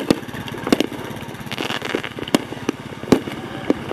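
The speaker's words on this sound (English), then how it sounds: "At this point, fireworks are firing over the graveyard as well" Fireworks fire over a city graveyard, sharp pops and crackles bursting at irregular intervals over a continuous rumble of background noise.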